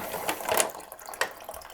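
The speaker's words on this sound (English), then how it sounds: "Just let it drain out." Water drains out of a loosened toilet supply valve during a plumbing repair, a soft steady trickle and splash close by, fairly quiet, with a small spurt partway through and no talking.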